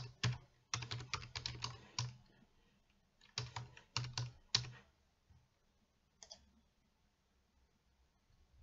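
A username being typed on a computer keyboard for an online login: close, crisp key clicks in two quick bursts, a short pause between them, then one last tap.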